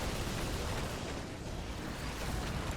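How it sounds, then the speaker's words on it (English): Explosions during a chaotic fight in a video game, a dense, continuous roar of booms and bursts blending into one loud, rumbling wall of noise with no talk. "look at all those explosions."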